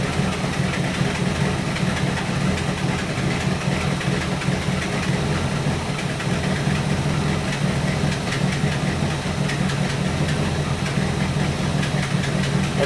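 A 1964 Buick Electra 225 with a 401 Nailhead V8 and a rebuilt Carter AFB carburetor idles warm, a steady, moderately loud rumbling throb that continues unbroken with no talking.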